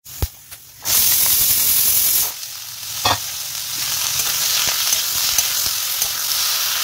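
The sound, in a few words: potatoes and onions frying in a hot pan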